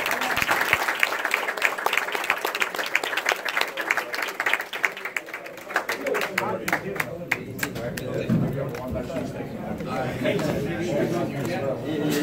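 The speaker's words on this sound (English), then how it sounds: "Round of applause for these two." A press conference crowd breaks into applause for two fighters after a bout, a dense patter of clapping that carries on through the room while a voice talks over it.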